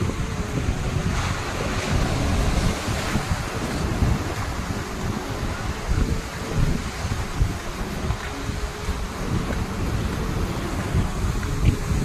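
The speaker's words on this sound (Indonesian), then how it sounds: "Jadi tekanan ombak di sini tuh sangat gede ya, dibandingkan pantai-pantai yang lain." Strong ocean waves crash on a beach just west of Yogyakarta's airport, a loud, continuous roaring surf with heavy wind buffeting the microphone throughout.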